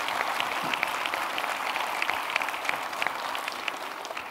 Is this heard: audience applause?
yes